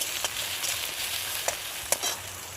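Chopped tomatoes with cumin seeds and onion fry in oil in a wok, a soft continuous sizzle with a few faint stirring clicks and scrapes, fairly quiet.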